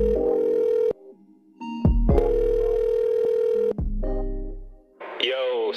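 A telephone tone rings out in steady bursts, loud and clear, with music fading underneath before a voicemail greeting starts; brief electronic chirps close the passage.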